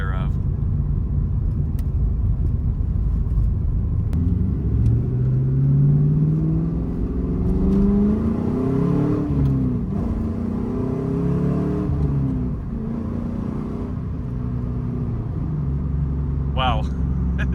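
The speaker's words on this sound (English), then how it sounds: "I could just get used to revving this thing out no matter what the fuel economy is" A 2006 Acura TSX with a 6-speed manual revs up hard, engine pitch sweeping up and falling back in repeated climbs under steady road rumble, loud and close from inside the car.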